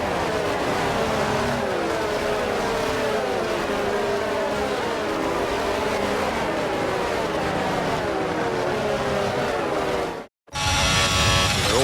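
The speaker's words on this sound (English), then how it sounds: "The formation lap gets underway and every driver will be looking to settle in for the race ahead" F1 22 racing game cars on the formation lap give a loud, continuous engine whine with shifting revs, which cuts off abruptly near the end before a brief different sound follows.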